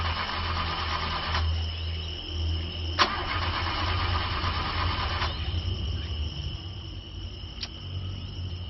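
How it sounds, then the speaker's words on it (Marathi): A car engine cranks repeatedly without catching at night, a steady mechanical churning in several bursts separated by short pauses, with a faint chirp of crickets in the background. "अरे यार, गाडी पण स्टार्ट होत नाहीये."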